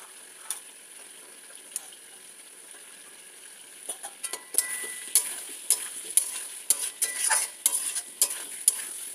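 Green peas added to potatoes frying in oil and spices in a pan, a quiet sizzle that grows busier as a spoon begins stirring with repeated clinks and scrapes, close, with no one talking.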